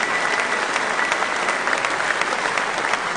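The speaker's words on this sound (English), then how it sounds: "That deserves one more round of applause, ladies and gentlemen." Sustained audience applause at a premiere event for the 2026 Ford Ranger Super Duty V6 truck, a dense, steady wash of many hands clapping throughout, loud and continuous with no speech over it.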